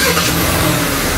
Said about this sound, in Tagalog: Narinig nyo yung makina, no?